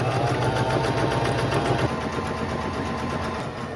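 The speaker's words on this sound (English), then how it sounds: "And then I will do a straight stitch across here to make our hem." A sewing machine runs continuously while stitching a straight hem on a thrifted garment, a fast, steady mechanical whir that eases slightly partway through, close and alone.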